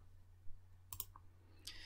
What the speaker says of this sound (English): To pause, we need to click the red microphone button.